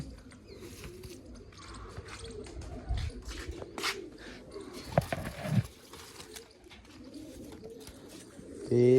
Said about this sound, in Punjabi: ਆ ਹੈਗਾ ਬੋਦੀ ਵਾਲੇ ਕਬੂਤਰ ਦਾ